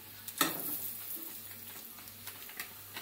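Meat masala and spice powders sizzle in a pan over a wood fire, a quiet steady crackle with a few louder pops and stirring scrapes, no voices.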